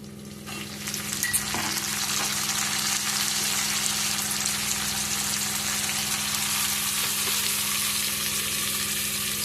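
Eggplant pieces fried with onions in a pan give a steady, close sizzle and bubbling hiss that rises after the first second and holds evenly throughout, with a faint stirring clatter early on.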